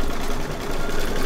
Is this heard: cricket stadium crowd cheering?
no